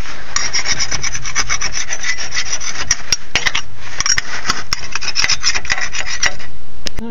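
A green scrub pad rubs hard and steadily across the old gasket material stuck on a Super Duty front differential's mating surface, making a continuous close rasping scrub with quick stroke-by-stroke scratches and no talking.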